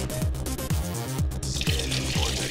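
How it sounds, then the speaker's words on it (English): Water runs steadily into a vortex hutch cleaner and swirls in a spinning pool, with a continuous close gush and rushing splash that brightens and widens partway through. "Okay, now watch what happens when I turn the water on."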